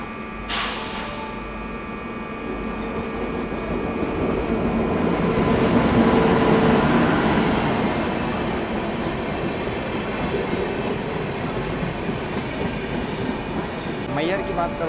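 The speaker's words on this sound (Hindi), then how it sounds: "सामने से आ रही है प्लेटफॉर्म नंबर 2 पे मैहर के हावड़ा CSMT" The Howrah–CSMT Mumbai Mail pulls into platform 2 at Maihar station, a long rumbling approach with clattering wheels and faint squeals building and lingering, a horn-like blast near the start, and someone talking over it.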